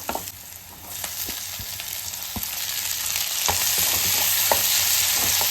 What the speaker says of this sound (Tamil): வெங்காயம் வந்து கொஞ்சம் நல்லா வதங்கட்டும்.